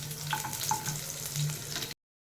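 Onion frying in a pan of hot oil with whole garam masala, cloves and cardamom, giving a steady close sizzle with a few crackles and stirring sounds before it cuts off abruptly.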